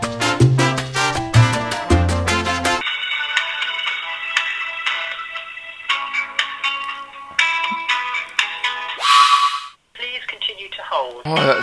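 A phone rings during a call to a doctor, with a series of bright electronic ringtone bursts and melodic tones, loud and close, interrupted by a short gap near the end.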